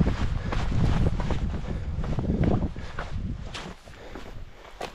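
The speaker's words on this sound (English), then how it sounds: "Keep getting strong gusts of winds" Strong gusts of wind buffet the microphone on a rugged mountain route toward Base Brown near Scafell Pike in winter, a loud continuous roar that swells and eases, with crunching footsteps underneath.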